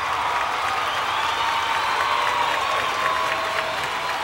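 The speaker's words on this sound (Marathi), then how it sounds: "जोरदार टाळ्या संपूर्ण टीमसाठी झाल्या पाहिजेत।" Applause for a whole film team at an awards ceremony: a steady, dense wash of clapping and crowd noise, loud and unbroken throughout.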